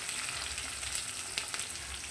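Chopped onion goes into kachur lati (taro stolons) frying in a pan, giving a steady crackling sizzle with faint stirring clicks, heard alone and close.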